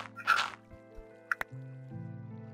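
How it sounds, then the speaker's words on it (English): Water dripping in a Minecraft world, a few separate splashy drips and clicks over a low steady background hum, fairly quiet. "I hear water. You hear that?"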